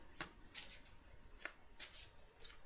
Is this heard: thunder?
no